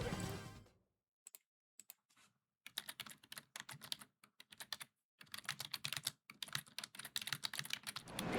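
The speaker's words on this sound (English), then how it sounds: "Sorry, I was typing." Quick bursts of typing on a computer keyboard, with dense clattering keystrokes broken by short pauses, close and fairly quiet with no voices.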